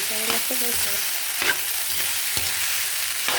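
Leftover rice stir-fried into Filipino garlic fried rice seasoned with crushed black pepper, a steady loud sizzle from the pan broken by several sharp scraping stirs of the spatula, heard up close with no talk.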